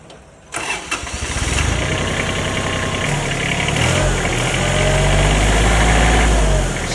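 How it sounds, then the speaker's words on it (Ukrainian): A Kubota Aste A-15 tractor's 15-horsepower, 898 cc three-cylinder diesel engine cranks and catches, then settles into a steady, rumbling idle that grows slightly louder, close up. "Даний трактор має 15 кінських сил та дизельний трьохциліндровий двигун"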